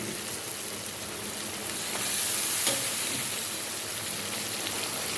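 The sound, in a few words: vegetables poured into hot oil, frying and sizzling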